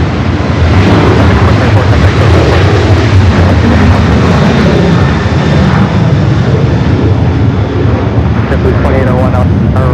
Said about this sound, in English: It's a Delta 767-300ER, the flight that came in from Atlanta, Georgia, slowly but surely making its way to gate 2 or Terminal 2 or 3 here on the north.